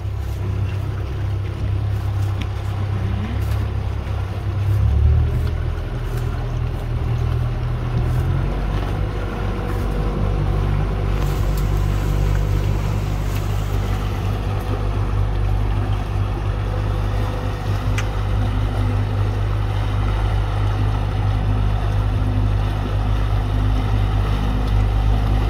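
A fishing boat's engine drones steadily at sea, a low continuous rumble with water noise around it and no speech.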